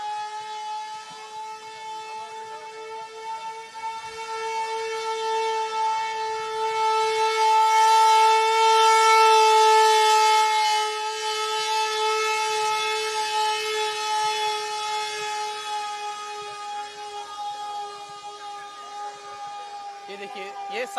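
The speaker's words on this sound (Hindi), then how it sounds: "एक बार फिर सायरन बजना शुरू हो गया है।" A civil defense siren wails throughout a blackout mock drill at Shri Krishna Janmasthan, its loud, steady tone swelling and easing over about twenty seconds.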